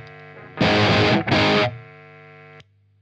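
An electric guitar runs through a budget D250X hard-clipping distortion pedal in D mode with gain fully up, two loud, fuzzy strummed chords in quick succession, then a sustained ringing tail that decays before cutting off.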